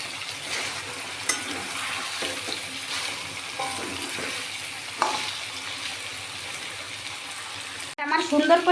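Spices frying in oil in a pan as chili powder is stirred in, giving a continuous close sizzle with occasional spatula scrapes, followed by a louder bubbling burst near the end.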